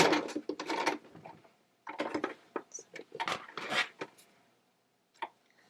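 A sewing machine back stitches fabric at the opening of a cell phone holder pillow, running in quick, close mechanical bursts that stop and restart several times with brief pauses between.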